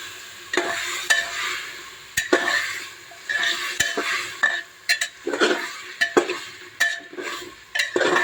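A paste of ginger and dry chili fries in a pan with a steady sizzle while a utensil stirs and scrapes against the metal in irregular knocks, with no voices.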